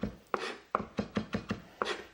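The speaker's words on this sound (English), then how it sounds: "let's just chop this up really fine like this" Lovage is chopped finely with a knife on a cutting board, giving a soft, uneven run of about eight close, quiet chops.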